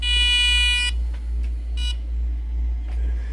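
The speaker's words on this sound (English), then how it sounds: "That's gonna beep when I do that." An electronic pigeon scarer sounds a shrill, piercing tone for about a second, followed by a brief second burst, over a low steady hum.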